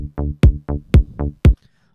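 Indie dance sub bass from Ableton layered with a synth bass line, six punchy notes in quick alternating rhythm over two seconds, loud and close with deep low end, no voices.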